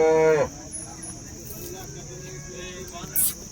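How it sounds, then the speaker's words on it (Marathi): A Jersey cow at the Baramati cattle market gives one loud, close moo at the start, followed by lower market chatter and scattered noises. "पाहू शकता या प्रकारच्या जर्सी गाई"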